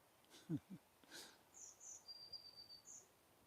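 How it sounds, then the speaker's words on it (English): Real birds sing outdoors, faint and distant, with a few brief chirps and thin high whistles over quiet background noise. "Just the sound of real birds. Not recorded birds. Real birds."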